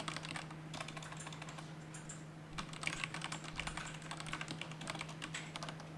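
Fingers type code on a computer keyboard with quiet, steady clicks and occasional heavier keystrokes, close but faint over a low hum.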